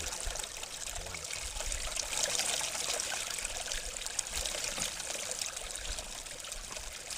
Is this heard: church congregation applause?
no